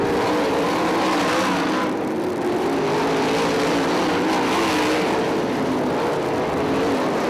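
Sprint cars race on a dirt speedway at Crystal Motor Speedway, a loud, continuous engine roar with rising and falling pitch as the cars circle the track.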